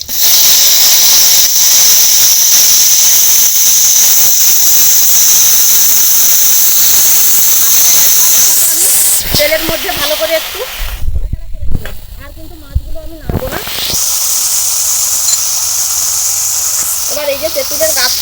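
Bombay duck (lotte) fish goes into hot oil with dried red chillies and panch phoron, and a loud, steady sizzling hiss fills the first half. The sizzle then breaks up under a voice and returns toward the end.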